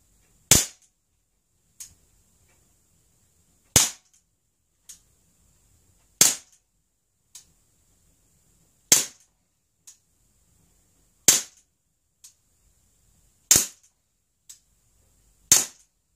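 An Umerex Beretta PX4 Storm pellet air pistol fires repeatedly, each sharp crack spaced a second or two apart, with fainter clicks between shots, loud and close against an otherwise silent background.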